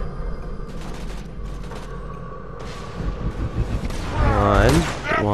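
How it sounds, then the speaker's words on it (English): Explosion and gunfire in the video game Borderlands 2, dense rumbling bursts and rattling shots building to a loud blast near the end, with game effects layered throughout. "That explosion can hurt me too."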